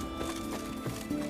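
Roach, the horse from The Witcher 3, gives a brief whinny over steady hoof clatter and game ambience, with pitched cries rising near the start and again at the end.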